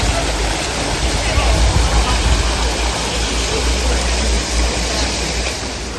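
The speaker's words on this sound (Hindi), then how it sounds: "इवन दो ये आर्टिफिशियल वाटरफॉल है, बट इसकी जो आवाज़ आ रही है इट्स जस्ट मैजिकल।" An artificial waterfall at a Buddha temple in Bangkok gives a loud, steady, close rushing roar of falling water that fills the whole clip.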